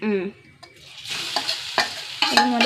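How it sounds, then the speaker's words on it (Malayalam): Grated coconut roasts in oil in a pan, a hissing sizzle punctuated by sharp scraping stirs, close and fairly loud, after a brief voice-like tone at the start. "തേങ്ങ ഇട്ട് കൊടുക്കട്ടെ കേട്ടോ അതൊരു മുറി തേങ്ങയാണ്"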